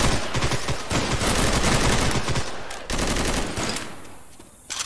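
Rapid bursts of automatic gunfire from the zombie shooter Left 4 Dead 2, loud dense volleys with brief gaps and a pause near the end, close and continuous.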